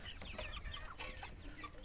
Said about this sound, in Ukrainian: Ти курочка, маленька біленька курочка.